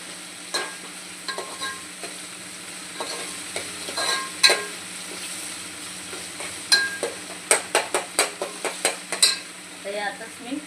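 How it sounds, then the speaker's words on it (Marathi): Oil and spices sizzle in a pan during home lunch cooking, with a steady frying hiss under a run of quick stirring scrapes and utensil clicks that speed into a rhythmic burst near the end. "आवाज असा यायपर्यंत मस्त आपल्याला असं परतवून घ्यायचं."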